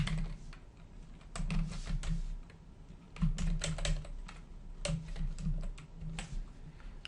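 Fingers type a card number on a computer keyboard in quick, uneven bursts of clicks with short pauses, close and fairly quiet, with no one talking.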